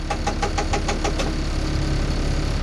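A Subaru STI parts car engine runs steadily at close range, a dense low rumble with a rapid rhythmic ticking or knocking through the first half, continuous and fairly loud with no talk.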